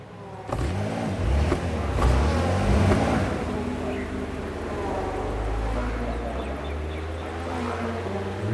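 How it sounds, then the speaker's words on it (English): A GT3 race car in a racing video game roars past, engine note rising and sweeping through a loud pass before settling into a continuous engine drone, with no one speaking. "We should see our teammate coming flying past any second now."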